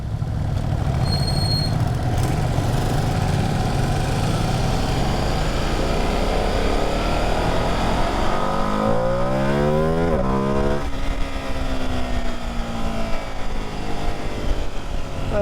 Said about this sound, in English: Let's get some more speed going here.